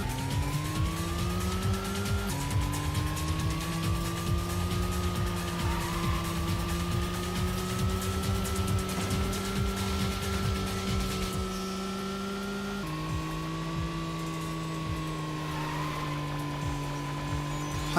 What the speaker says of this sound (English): This guy's totally drifting.